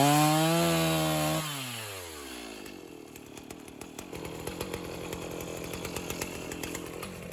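A chainsaw revving loudly, dropping in pitch as the chain bites into a log, then a long grinding cut with rough, rhythmic rasping under the engine drone.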